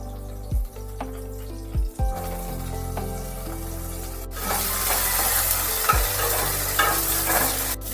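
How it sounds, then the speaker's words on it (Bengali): Blanched cauliflower pieces hit hot oil in a kitchen pan, starting with a few stirring knocks and then a loud, sustained crackling sizzle that fills the rest of the clip, with no voices. "এবার কপিগুলোকে একেবারে গরম জলে ভাপিয়ে নিয়ে দিয়ে দিচ্ছি তেলের মধ্যে"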